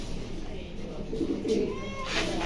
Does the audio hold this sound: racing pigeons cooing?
yes